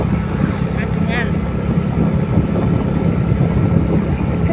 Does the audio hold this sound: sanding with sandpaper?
no